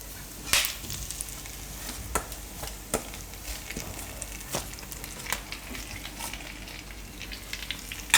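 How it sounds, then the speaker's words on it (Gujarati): Jaggery being stirred into a roasted mixture in a pan over a low flame for a Gujarati masala god winter sweet: a steady soft sizzle with sharp spoon scrapes and knocks at irregular intervals, close and moderately loud, with no voices. "ગોળને ખાલી આમાં આપણે મિક્સ કરવાનો છે"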